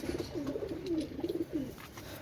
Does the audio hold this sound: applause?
no